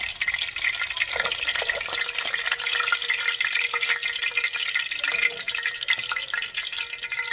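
Empanadas crackle and bubble in hot frying grease, a close, busy patter of popping oil that holds at an even level for several seconds with no talking.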